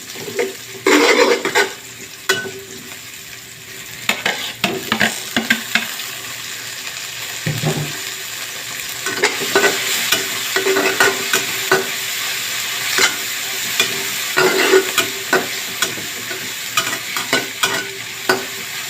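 Bitter gourd (ampalaya) frying with egg in a pan, a steady sizzle broken by repeated scraping and clinking spatula strokes at irregular intervals, close and fairly loud throughout.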